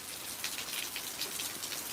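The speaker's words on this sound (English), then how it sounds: "It's just barely raining now." Light rain during a storm in Alabama, a soft, continuous patter of drops hissing on surfaces, close and steady, with no voices over it.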